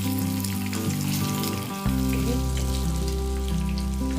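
Raw banana and brinjal shallow frying in a pan for Surati undhiyu, giving a steady, close sizzle that runs the whole time over a low constant hum, with no talking.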